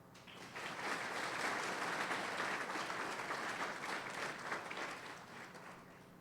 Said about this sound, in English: I'm going to have a round of applause.